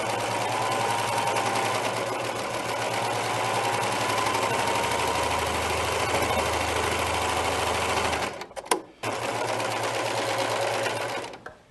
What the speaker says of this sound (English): I'll just stitch a little bit for you.